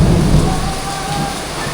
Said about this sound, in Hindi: इतनी तेज आंधी तूफान आया। और अब तो बारिश भी बहुत तेज आ रही है